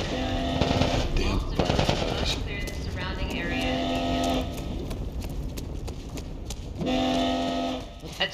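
Gunfire in The Last of Us Part 1, bursts of rapid shots in a chaotic game scene alongside shouting voices and horn-like tones, with loud stretches near the start, middle and end.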